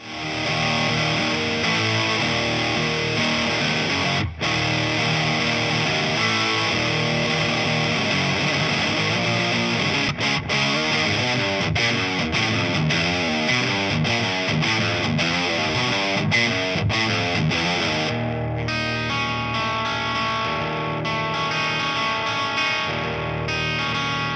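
A heavily distorted electric guitar with humbucker pickups plays sustained chords and riffs, with sharp pick attacks and a thick, saturated tone ringing out.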